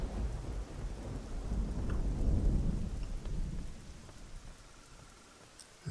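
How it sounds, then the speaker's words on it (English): Steady rain with deep rolling thunder in the video game Oblivion, the rumble swelling loud and then fading under the constant patter. "This rain."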